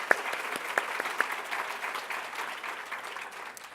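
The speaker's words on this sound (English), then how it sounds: "let's another round of applause" A crowd applauds at a 2014 school lunch event, steady clapping of many hands with a few sharper near claps standing out, moderately loud and continuous throughout.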